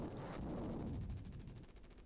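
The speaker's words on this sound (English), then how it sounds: "I hear some gunfire. Yo, they're shooting the tower." Gunfire at a tower in the 1993 video game Jungle Strike sounds as a dense, continuous burst of loud, crackling game shots that fills the whole short stretch.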